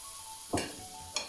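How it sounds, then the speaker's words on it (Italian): Chopped onion drops into a hot, dry pot at the start of a homemade vegetable stock cube recipe, giving two short, close sizzling bursts about half a second apart over a quiet kitchen background. "Perciò comincio subito a mettere della cipolla."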